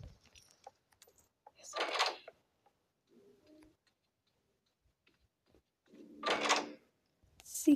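Doors opening in the horror video game Doors: two short, noisy creaking bursts about four seconds apart, with scattered faint ticks and a soft low thud in between, with no one talking.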